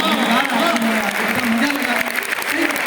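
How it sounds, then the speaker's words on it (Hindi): An audience at a Hindi kavi sammelan poetry gathering at the University of Jammu claps in a loud, dense burst of applause that continues steadily throughout, with voices mixed in. "ताली बजाओ"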